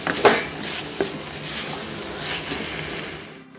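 Crushed peanut powder is stirred into vegetables in a kadhai, with a spoon scraping and tapping against the pan over a steady soft sizzle, close and brief.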